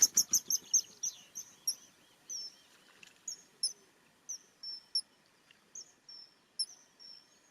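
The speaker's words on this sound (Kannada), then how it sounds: "Kingfisher, ಜಾದುಗಾರ ಹಕ್ಕಿ" Kingfisher calling, a series of sharp, high, thin chirps, rapid at first and then spaced into irregular short bursts, clear against a quiet background.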